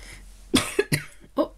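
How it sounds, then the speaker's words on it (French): A person coughs close up in a few short, sharp bursts spread over about a second, with no other sound around them. "Une petite toux, rassurez-vous, c'est pas contagieux."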